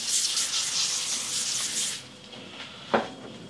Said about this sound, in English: What I'm going to do is I'm going to spray a sheet pan